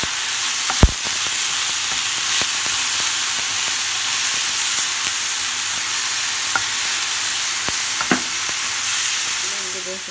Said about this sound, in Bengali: আর একটু ভালোভাবে এটাকে ভেজে নেব সবগুলো ইনগ্রিডিয়েন্ট।